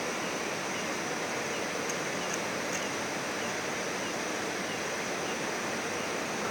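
A river runs beneath a bridge, making a steady, broad rushing wash of flowing water that continues without a break, with no voices.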